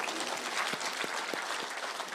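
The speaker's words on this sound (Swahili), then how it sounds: "Kwa sababu yeye mwalimu, tumpigie makofi." Crowd applause at an outdoor political address in Kenya, a dense steady clapping wash with a few sharper individual claps standing out, no voices.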